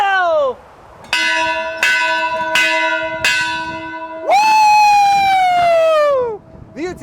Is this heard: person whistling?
no